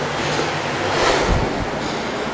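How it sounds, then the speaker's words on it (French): A river flows beneath an abandoned chocolate factory, a steady broadband rush of water with a low rumble and some wind-like hiss, constant and fairly loud, with no one speaking. "c'est la rivière qui passe dessous, en fait. On l'entend bien."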